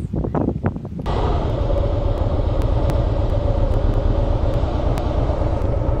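Motorcycles ridden after leaving a hot spring, a Harley-Davidson Fat Boy and a small Honda bike: a loud, steady engine rumble and road noise that carries on throughout after a short burst of irregular sounds at the start.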